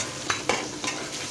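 Side pieces of fish frying lightly in a pan with oil: a steady close sizzle broken by a few sharp scraping stirs.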